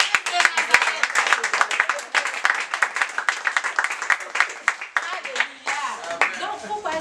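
A congregation at a church service applauds in a steady, dense burst of clapping that carries on for several seconds, with a few voices rising over it.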